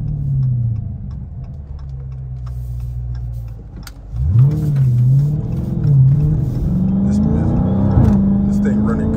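A Dodge Charger Daytona 392 V8 idles with a steady low drone, then the engine blips and revs up on a downshift around the middle and again near the end, loud and close.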